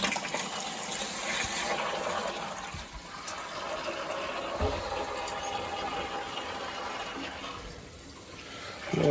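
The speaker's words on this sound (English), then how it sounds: "Water's coming into the return, through the return piping, back around to our supply on top of the circ zone valves" Water rushes steadily through the return piping of a Burnham ES2 boiler, a continuous hissing gush that swells and eases slightly while the system is filled, with no voices.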